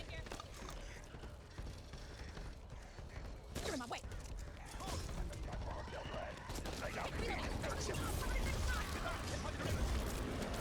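Bot teammates firing guns at range during a Back 4 Blood level, heard as bursts of rapid gunfire mixed with explosive crashes and dense game noise, loudness building over the second half.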